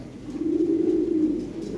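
Toy Lahori pigeons coo in one low, steady, rolling call that swells and fades over about two seconds, close by and fairly loud, with no talk.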